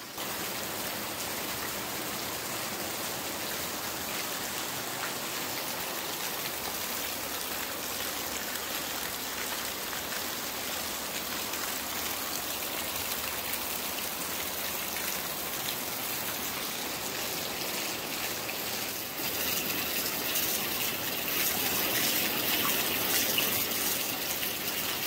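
Heavy rain pours down steadily alongside a rushing torrent of floodwater, a dense, loud roar that holds throughout and swells slightly louder near the end, with no voices.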